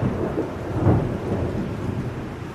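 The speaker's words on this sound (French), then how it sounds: "Il y a un grand orage qui s'est déclenché." Autumn thunderstorm outside a home: a loud, close rumble of thunder rolls over steady heavy rain, with no voices.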